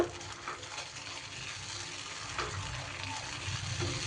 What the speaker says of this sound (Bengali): মশলাটা দিয়ে এবার একটু কষিয়ে নেব